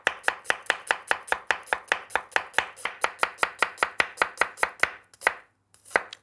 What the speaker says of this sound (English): Finely slice a red onion.